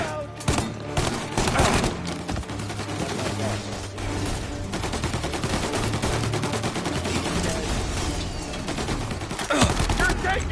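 Sustained gunfire in Mafia Definitive Edition crackles on for the whole stretch as dense, overlapping shots and bursts, loud and near, while in-game voices call out over the fighting.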